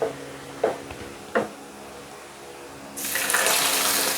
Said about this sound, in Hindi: फिर आपने इसमें थोड़ा सा पानी ऐड करना है।